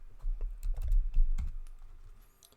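Keys clatter on a computer keyboard as a short chart title is typed in a quick, uneven burst of close clicks that taper off toward the end.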